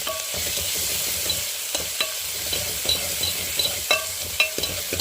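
Ground spice paste sizzles in a pan while a spoon scrapes and stirs it, a constant frying hiss punctuated by irregular knocks and scrapes, with no talking.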